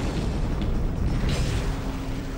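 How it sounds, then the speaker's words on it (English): Deep, sustained rumbling roar of a massive explosion, the 1908 Tunguska blast over the central Siberian forest, a loud continuous low boom with no voices present. "An explosion uproots 60 million trees and devastates more than 800 square miles of the countryside."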